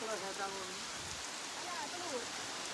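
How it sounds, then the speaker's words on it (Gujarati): Steady rain falls outside a house, a soft even hiss with faint background voices. "આ સાઈડ તો જો ગાઈસ વરસાદ ચાલુ છે"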